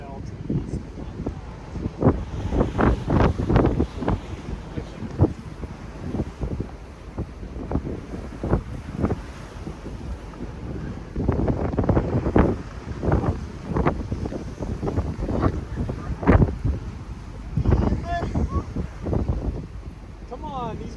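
Strong storm wind during tornado chasing near Morton buffets the microphone in repeated loud, irregular gusts, with deep roaring bursts and brief lulls lasting the whole stretch.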